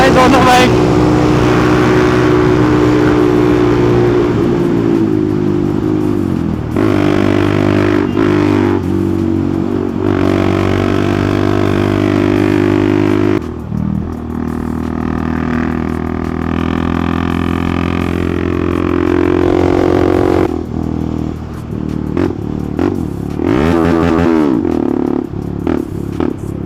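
Aftermarket-exhausted NS400Z motorcycles, one with a full system and one with a slip-on, accelerate and shift repeatedly, loud close engine notes climbing and dropping in several pulls over about half a minute, with riders talking over the noise.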